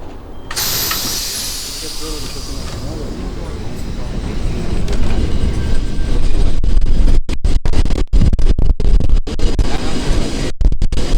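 Lisbon's number 28 tram riding through the Old Town, a steady loud rumble with hissing and scraping from the rails that builds as it rolls, with brief clicks and dropouts and voices faintly underneath.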